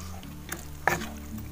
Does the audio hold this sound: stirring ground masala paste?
yes